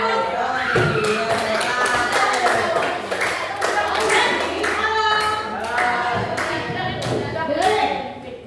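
Students in a classroom clap their hands together in a loose, uneven burst of sharp slaps and taps, with voices chattering among the claps.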